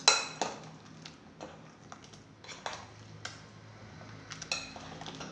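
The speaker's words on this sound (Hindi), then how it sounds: "इसको अच्छी तरह मिक्स कर लेते हैं।" A spoon scrapes and clinks in a bowl as chicken is mixed with a yogurt marinade, with irregular soft knocks spread over several seconds and no talking.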